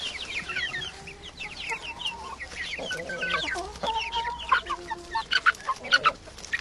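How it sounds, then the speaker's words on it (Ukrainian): Young chickens cluck and peep steadily in an outdoor enclosure, with many overlapping calls close by and no voices. "Ось такі мої цеплятка."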